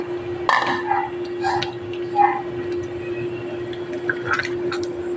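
Mushrooms are stirred into tender simmered beef in a cooking pan for spaghetti sauce, with intermittent clinks of a utensil against the pan and wet stirring over a steady hum, while someone talks.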